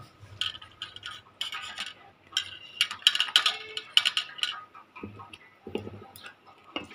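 An idli steamer pan is greased with oil in a home kitchen, giving close, irregular metallic clinks, taps and light scrapes in short bursts with brief quiet gaps.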